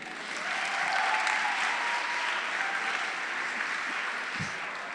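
Audience applause at an open-stage comedy event, a steady wash of many hands clapping at moderate distance, swelling in the first second and holding evenly before easing slightly at the end.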